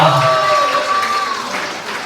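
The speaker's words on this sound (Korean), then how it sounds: "박수 한번 보내주시면 감사하겠습니다" Wedding guests applaud after a congratulatory song at a ceremony, a close, lively burst of clapping mixed with cheering voices and a lingering vocal tone that gradually eases off.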